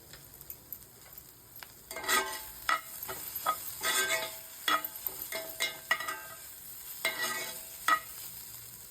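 Beetroot fries in a pan under a soft sizzle, broken by a string of sharp spatula scrapes and taps against the metal in an uneven rhythm, close and fairly quiet.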